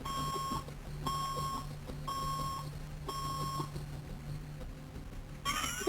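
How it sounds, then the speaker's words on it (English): A video game alarm from the Road 96 fan project sounds in an office, a bright electronic beep pattern repeating in regular bursts about once a second. It is loud and close, with no voices over it. "It's an alarm! Kid, stop the alarm!"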